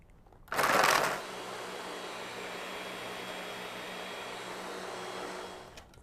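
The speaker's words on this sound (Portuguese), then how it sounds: "E aqui falta só a água. E vamos bater uma velocidade alta," Blender running at high speed on tahini and water, with a loud roaring start that settles into a steady whirring drone for several seconds before it winds down.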